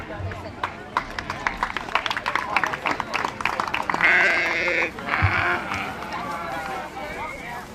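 Black-faced breeding sheep bleat in a show ring at the 2025 Sheridan County Fair, several calls rising over an announcer's amplified talk, scattered crowd noise and shuffling hooves.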